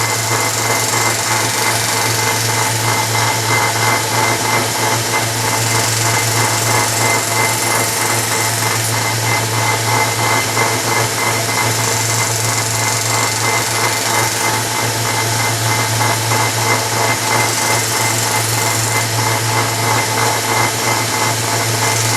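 A knife blade being convex-sharpened on a belt sander hums as a steady, loud motorized drone for the whole stretch, with a constant low tone and an even grinding hiss and no pauses.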